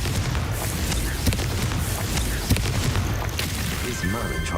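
A Confringo spell explodes in the video game Hogwarts Legacy, with booming blasts and crackling bursts over a dense, loud game soundscape while a voice speaks over it.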